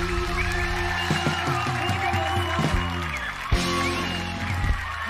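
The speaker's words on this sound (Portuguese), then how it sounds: "Aplausos, minha gente!" A TV studio audience on the Altas Horas show applauds and cheers for two performers after they sing a song. Dense clapping blends with sustained music underneath, with a louder burst midway.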